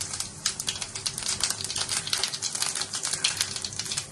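Cumin seeds crackle and spit in hot mustard oil while spice for khichdi is being made: a dense, fast patter of tiny pops, close and fairly quiet, with no voices.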